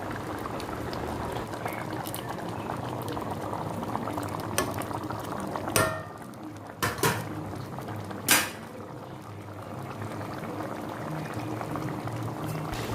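Kadai paneer masala gravy simmering and bubbling in a covered pan, a steady close bubbling texture running throughout with a few brief louder knocks partway through.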